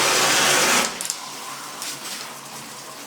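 A Sparkpod 10-setting high-pressure shower head on its jet setting sprays water with a loud, steady hiss for under a second. The spray then cuts off abruptly, leaving faint drips and trickles.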